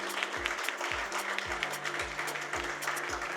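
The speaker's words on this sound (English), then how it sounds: "Can we have a huge round of applause for Anand?" An audience at a launch event claps steadily for a speaker, an even wash of applause with a low repeating pulse running beneath it.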